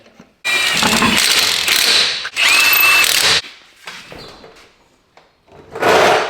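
Power-tool bursts tighten a bolt on a 20-year-old Duramax truck, with two long loud runs of whirring and rattling separated by pauses, then shorter quieter clicks and a final burst; no talking.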